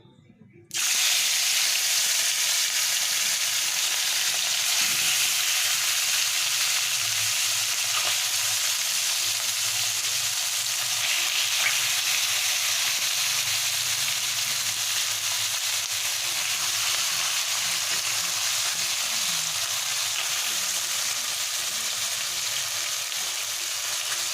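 Mourala fish slid into a hot kadai sets off a loud, steady sizzle of frying oil that starts abruptly and holds evenly throughout, with no talking.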